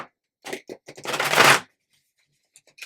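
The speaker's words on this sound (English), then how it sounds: "He's finding it a little bit harder to shuffle today." Tarot cards being shuffled close by by someone with arthritic fingers: a few quick riffling bursts building to one longer dense flutter, then near silence with faint light taps.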